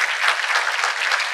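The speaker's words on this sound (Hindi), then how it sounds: "मैं चाहूंगा जरा इस पर एक बार जोरदार तालियां हो।" Audience applause at a TV9 WITT 2025 summit session, a dense, steady wash of clapping from a large seated crowd, loud and continuous throughout with no talk over it.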